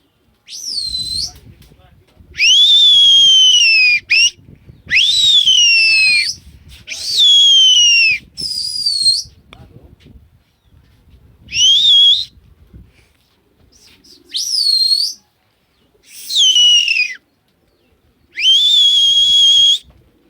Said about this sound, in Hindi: हम अभी थोड़ा सा इन्हें और सीटी करेंगे